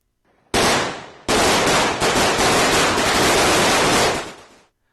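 Diwali firecrackers burst in a dense, loud, continuous crackle of rapid explosions that starts abruptly, intensifies after a brief dip and runs for several seconds before cutting off.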